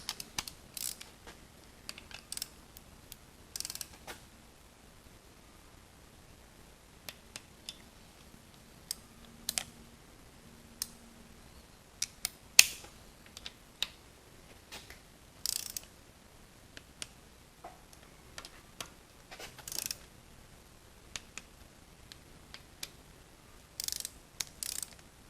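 Clicks and ratcheting of a torque wrench tightening the rear main seal bolts on a Chevrolet S10 4.3 engine, scattered sharp ticks in bursts against a quiet background.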